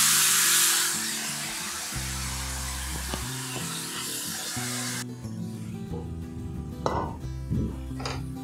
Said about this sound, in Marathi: आणि हे गिलके कापून घेतलेले आहे हे घालायचे।